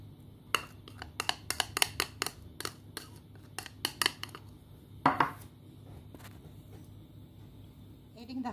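Soft butter and icing sugar being mixed for a glaze in a bowl, heard as a quick run of sharp clinks and taps of the utensil against the bowl, with a quieter stretch afterwards.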